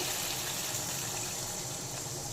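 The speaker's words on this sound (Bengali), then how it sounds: "দেব বেশ কিছুটা জল" Water poured into a cooking pot of lentil-fritter curry, a steady continuous gush of liquid filling the pot, close and fairly loud throughout with no voices.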